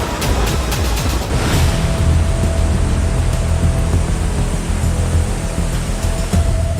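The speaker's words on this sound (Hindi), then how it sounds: "तबाही का सैलाब तो कुल्लू में भी दहाड़ मार रहा है।" The flooding Beas river in Kullu roars loudly and continuously, a dense, unbroken rush of torrential water close by with no voices over it.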